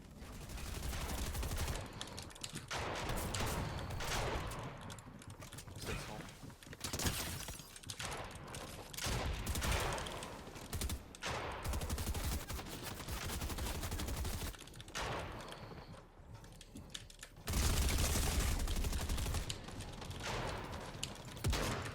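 Gunfire in the video game Fortnite during a competitive match, with dense bursts of rapid shots and impacts, some shattering, continuing loudly with brief lulls.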